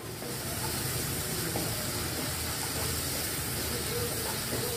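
Carrots tipped into a pan of sautéing onions, with a loud, steady frying hiss filling the whole stretch and no break.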